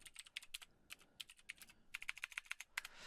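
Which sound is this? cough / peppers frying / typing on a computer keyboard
typing on a computer keyboard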